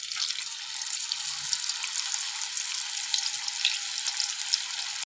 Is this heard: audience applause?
no